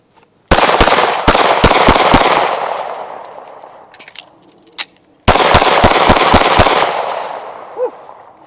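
A Glock 43 single-stack 9mm pistol fires two rapid strings of loud, sharp shots with echoing tails, separated by a short pause.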